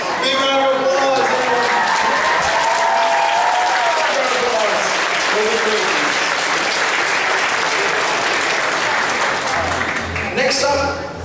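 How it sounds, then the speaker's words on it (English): Sustained audience applause fills the room at an anime convention costume contest, a steady loud wash of clapping with some cheering, and an announcer's voice is heard over it at the start and end. "Big round of applause."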